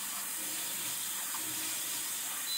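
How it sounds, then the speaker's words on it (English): Water runs steadily into a container from close by, a continuous hissing flow with no talk over it. "I think I'm going to put a little water in it."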